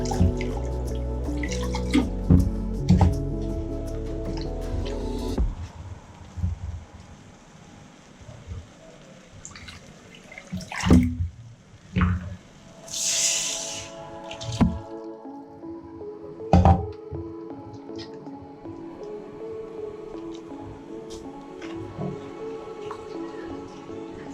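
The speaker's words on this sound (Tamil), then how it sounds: "நல்லா அந்த மிக்ஸி ஜாரை அலசிட்டு அதில் ஊற்றிக்கலாம் தண்ணி எல்லாம்" Water sloshes and drips into a mixer jar, with splashy pours and rinsing sounds alongside occasional speech.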